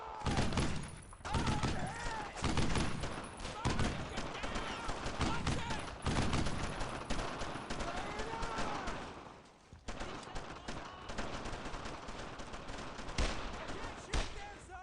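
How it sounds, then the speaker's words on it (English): Rapid rifle and machine-gun fire in a World War II battle in the game Brothers in Arms: Road to Hill 30, loud dense bursts with shouted voices mixed in and a short lull near the end. "I need suppressing fire! Shoot them"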